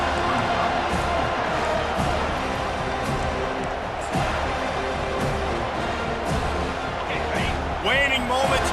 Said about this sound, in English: this crowd is rising to the occasion